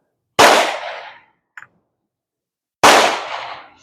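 Two sharp, loud rifle shots from a Mauser Model 71 fired at an outdoor range, spaced about two and a half seconds apart, each with a decaying echo tail and a faint small click between them.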